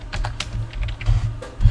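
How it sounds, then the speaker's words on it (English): Fingers typing a message on a computer keyboard, a quick irregular run of light clicking keystrokes, close and clear with no talk. "So you can type in a message."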